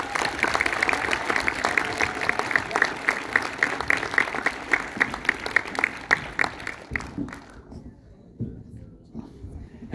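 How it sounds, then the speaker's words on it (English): Film premiere audience for Winnie the Pooh: Blood and Honey breaks into rhythmic clapping, loud and even for several seconds before thinning out and fading to near silence, with a few murmuring voices underneath. "We'll give them applause."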